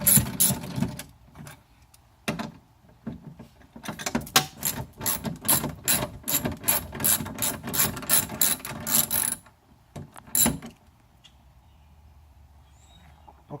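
Ratchet loosening a window regulator bolt inside the door of a Nissan Altima, a close, rapid run of clicking pawl bursts that stops after about ten seconds and leaves near silence.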